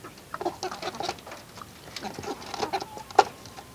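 Several chicks and young roosters cluck and chatter close by, with soft irregular calls scattered across a few seconds and one sharper squawk near the end.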